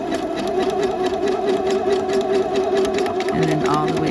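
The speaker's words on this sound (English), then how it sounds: "I'm going to continue to back stitch all the way." A sewing machine back stitches a jogger waistband in one continuous, loud, close mechanical hum with a rapid steady rhythm that runs throughout.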